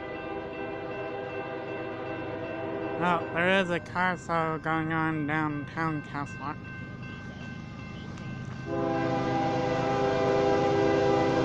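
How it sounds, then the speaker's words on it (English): A Union Pacific freight train's horn sounds in a rapid series of blasts, then holds a long steady tone over the rumble of passing rail cars, with someone talking. "Here comes the Union Pacific freight train."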